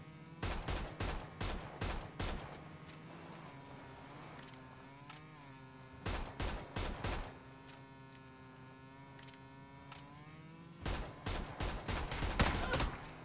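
PUBG gunfire, with rapid bursts of automatic shots in several clusters, separated by gaps where a steady engine hum carries on.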